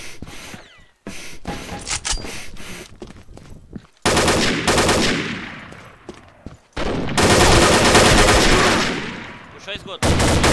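Gunfire in a shooting video game: loud rapid bursts and single shots come in repeated volleys with brief gaps, over faint background chatter.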